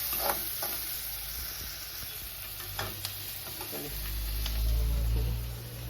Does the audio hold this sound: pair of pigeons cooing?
no